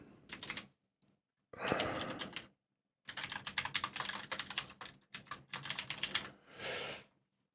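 Computer keyboard typing heard up close in short, uneven bursts of rapid clicking, with brief silent pauses between runs of keystrokes and no speech.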